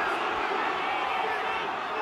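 A home rugby crowd at Gloucester's match against Saracens keeps up a steady, dense roar of voices and murmuring chatter, with no distinct peaks.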